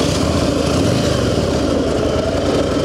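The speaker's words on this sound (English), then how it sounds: "Engine runs good." A 2000 Harley-Davidson Road King FLHR engine runs steadily in cool weather, a loud, close, even rumble holding constant without any revving or talk.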